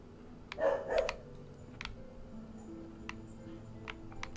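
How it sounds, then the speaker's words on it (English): A dog barks twice in quick succession, fairly close and moderately loud, then the room falls to a quiet background hum with a few faint ticks. "My dog is going crazy."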